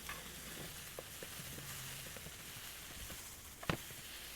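Eggs frying in a pan while being stirred constantly, a steady close sizzle with faint scraping strokes and one brief sharp knock near the end.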